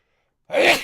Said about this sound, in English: As soon as I start sneezing, I won't stop until I blow my nose